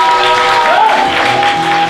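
A youth convention congregation in a church breaks into dense, sustained clapping, with raised voices and cheering mixed into the applause.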